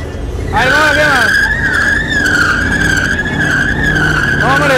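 Car tires skid and squeal at a quarter-mile drag racing event in Sinaloa, Mexico. A loud, sustained screech rises abruptly and holds over engine rumble, with people talking close by.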